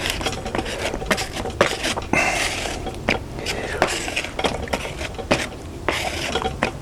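Two-part wood filler being mixed by hand for a rotten wood repair: a steady run of scraping, stirring and tapping strokes, close and fairly loud, with no talk over it.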